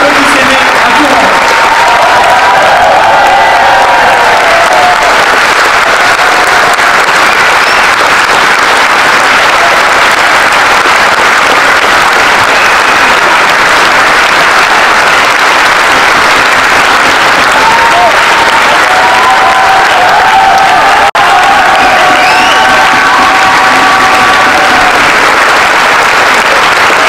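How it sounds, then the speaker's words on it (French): Crowd at a Paris mayoral campaign rally for Benjamin Griveaux applauding and cheering loudly, a dense sustained wall of clapping with shouts and voices mixed in, continuing steadily throughout. "Applaudissez-les à tout moment."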